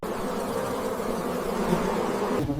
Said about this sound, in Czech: To jsou včely.